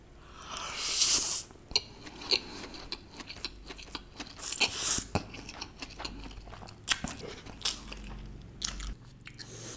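Someone bites into and chews Domino's food close to the microphone. The crunching and mouth sounds are irregular and moist, with sharper bites scattered throughout.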